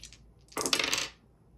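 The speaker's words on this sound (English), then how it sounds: "I'm going to go ahead and roll some dice." Dice roll and clatter on a hard surface in one short burst of rattling clicks, close and fairly loud, with no talk.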